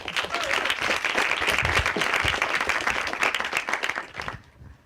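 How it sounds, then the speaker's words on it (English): An audience at a hackathon event in Tallinn breaks into sustained applause, dense clapping from many hands in a room that fades out at the end. "please, round of applause to Nicole and US Embassy here in Tallinn"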